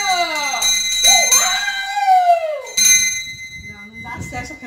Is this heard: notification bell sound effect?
yes